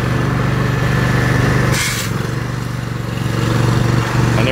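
A power wash trailer engine runs steadily and loud nearby, a constant droning hum with a brief higher rushing burst midway before it settles back to its even running note.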